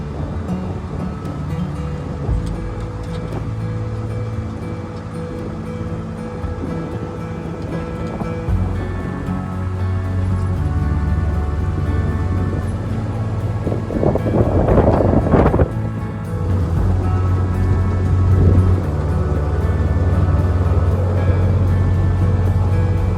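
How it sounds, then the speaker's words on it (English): Strong wind roars and buffets against the microphone aboard a narrowboat on a canal, with a low engine rumble underneath and gusts rising and falling, loudest in a rough burst midway. "you might be battling against the wind to turn in the direction that you want to go"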